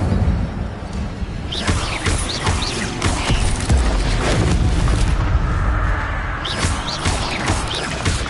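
An Incendio fire spell is cast in the video game Hogwarts Legacy, a loud rumbling burst of flame with whooshing roars and booms layered over sustained crackling combat noise.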